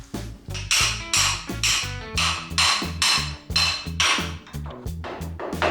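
Wrenches work seized nuts loose on a rusty Citroën 2CV, giving repeated loud metallic clanks and knocks roughly every half second. The sound is close and forceful and continues without pause.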